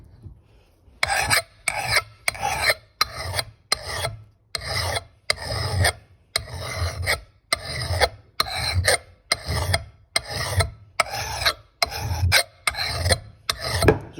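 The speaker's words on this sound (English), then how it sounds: "just going over it with a file, just to make it sharp" An old Kentish axehead is sharpened with a hand file: about fifteen evenly paced, loud, close rasping strokes, each followed by a short pause.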